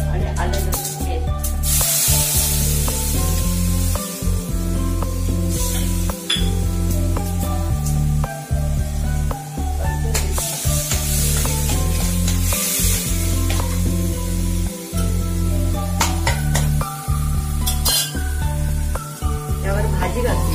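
Turmeric and ginger-garlic paste hit hot oil already crackling with mustard seeds, giving a loud, continuous sizzle with occasional spatters and clinks, layered over tonal background music.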